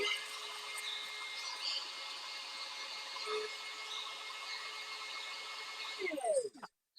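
An OKF electric spice grinder runs continuously for about six seconds, grinding a small amount of spices toward powder with a steady, loud motor whine, then winds down and stops near the end.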